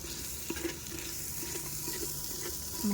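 Spoonfuls of ground spices, including garam masala and coriander powder, being stirred into a sizzling pan of food, with soft scraping and faint frying crackle running steadily throughout.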